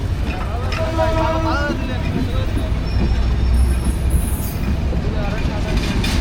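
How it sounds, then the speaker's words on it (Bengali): A train rolls along the rails with a steady, low rumble and faint wheel noise, with people talking close by over it. "ট্রেন যাওয়া শুরু করছে এই জায়গা।"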